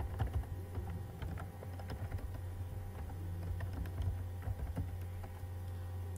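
Fingers tap out a command on a computer keyboard in quick irregular bursts of light clicks over a steady low electrical hum, fairly quiet and close.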